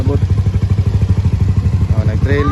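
Trail motorcycles arrive on a grassland route near a mountain peak, giving a steady, loud mid-pitched engine drone with rapid pulsing throughout and a brief rising whine near the end.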